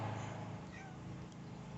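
Milo, a neighbor's porch cat, gives a faint, distant meow over a steady background hum, with no talking.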